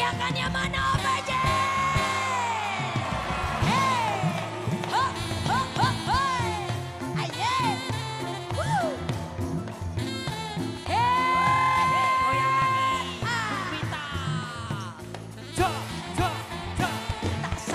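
A studio audience at an Indonesian TV comedy show shouts and cheers, loud sustained yells and whoops rising and falling in waves of crowd noise, with rising and falling vocal cries standing out over a busy backdrop.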